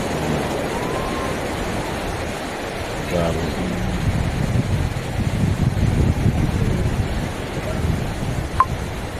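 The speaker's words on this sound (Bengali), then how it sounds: "শব্দ পাচ্ছেন তো ঢেউয়ের শব্দ কত বড় বড় ঢেউ" Large sea waves wash onto the beach at Mandarmani during high tide, a continuous broad surf roar mixed with wind buffeting the microphone, under brief faint sounds.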